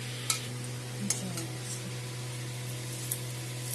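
Dried chilli, bay leaf, cardamom and cinnamon fry in oil with a soft, low sizzle under a steady hum, broken by a few sharp spatula clicks and stirring taps.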